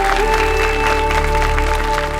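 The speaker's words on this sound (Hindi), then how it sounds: "हमारे सारी बहुओं के शानदार परफॉर्मेंस के लिए जोरदार तालियां हो जाए" A studio audience at a TV show competition finale bursts into loud, sustained applause, clapping densely over a steady musical tone for a couple of seconds.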